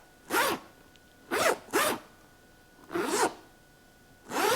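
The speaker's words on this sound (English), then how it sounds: "this bag has such a heavy duty zipper" A heavy-duty zipper on a Marge Sherwood handbag is pulled open and shut in five quick rasping strokes, two of them close together, sounding close-up and crisp against quiet background.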